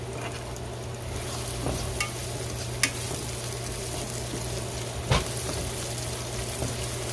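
Saltfish fries in oil in a pot, a steady close sizzle and crackle with a low hum beneath and a few sharp pops and stirring clinks along the way.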